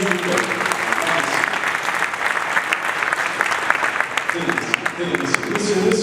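Sustained applause from an audience at a hypnotist show in Abidjan, dense and steady clapping throughout, fairly loud with a faint voice briefly underneath.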